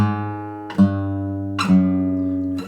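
Guitar playing a chromatic descending bass line starting from A for a riff: sustained low notes with three plucked changes, close and clear with no talk.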